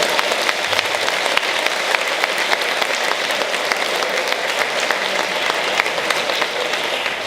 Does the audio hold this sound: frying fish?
no